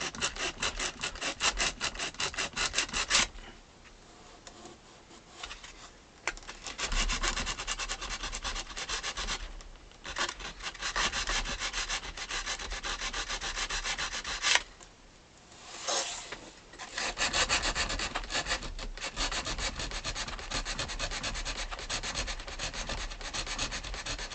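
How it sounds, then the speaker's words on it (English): Steady rhythmic sanding of wooden accordion parts, long rasping back-and-forth strokes with brief pauses between bursts, close by. "I'm just getting sanding and just sanding it"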